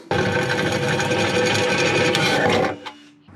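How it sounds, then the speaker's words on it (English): A power drill whirs steadily at high speed while enlarging holes for water-methanol system plumbing, loud and close, then winds down and stops near the end. "I gotta go ahead and drill them out with the right size bit"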